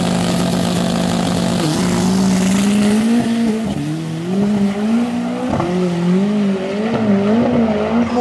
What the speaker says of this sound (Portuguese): Fuscão agora andando.